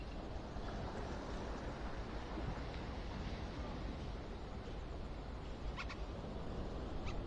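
Sea water moving inside a port bay where boats enter, a steady broad wash of gentle waves with faint bird calls near the end, quiet and continuous with no voices.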